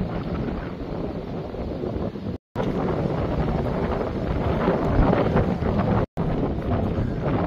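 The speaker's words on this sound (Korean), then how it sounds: "이 바람 소리는 태평양에서 불어오는 바람 소리고요" Steady, strong wind blowing in off the Pacific Ocean across a Hawaiian ridge trail, a broad roaring rush buffeting the microphone continuously, close and loud with two brief dropouts.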